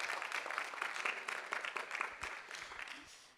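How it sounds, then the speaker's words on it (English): Conference audience applauding to welcome a speaker, a short fairly quiet patter of clapping that fades slightly toward the end. "Let's give him a round of applause."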